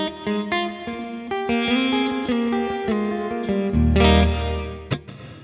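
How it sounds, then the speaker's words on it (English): An ALABS reverb pedal with its bright control turned up lets a sustained, effected guitar ring out in a wash of bright reverb, with chords and notes blurring into a steady, moderately loud shimmer and a heavier low swell near the end. "We can also brighten up the reverb with the bright."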